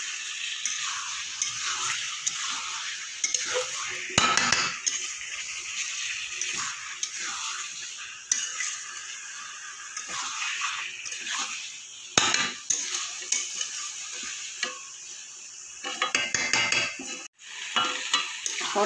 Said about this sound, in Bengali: দিয়ে এবার ভালো করে সমস্ত মশলার সাথে পটল আলুটা আমি কষিয়ে নেব।